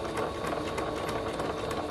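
A sewing machine runs steadily at speed stitching a seam on slim joggers, a continuous close whirring buzz with fine rapid ticking and no pauses.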